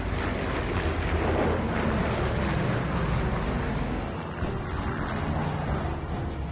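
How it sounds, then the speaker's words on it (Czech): Heavy anti-aircraft fire from an airfield rumbles in a dense barrage of booms and rolling blasts, loud and continuous, with an engine drone beneath. "Z letiště dole spustili zuřivou protiletadlovou palbu."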